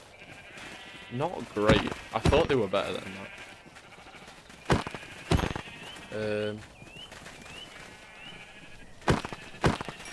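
Sheep in the Minecraft video game bleat in short wavering cries, several of them spread through the stretch, while someone talks over them and game effects clatter.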